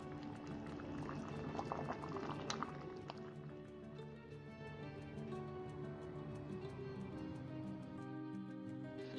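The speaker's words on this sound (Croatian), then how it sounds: "Nakon što agda provrije, dodamo limun izrezan na kolutiće i sve kuhamo 7 minuta." Sugar syrup with sliced lemon rounds bubbling at a steady boil in a pot, a continuous soft gurgle of small popping bubbles, close and fairly quiet, alone without talk.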